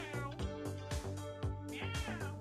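A cat character meows repeatedly in the video game Reverse 1999, a string of loud, close, drawn-out mewing calls in quick succession with no other talk.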